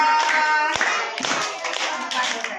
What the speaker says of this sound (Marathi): जोरात टाळी वाजवा